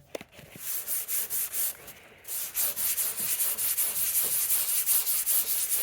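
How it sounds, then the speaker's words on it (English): Hand sanding of 2k primer on a car part being prepped for paint: steady, close rhythmic rasping strokes with a brief pause near the start, with no talking. "You're going to want to sand it to this finish."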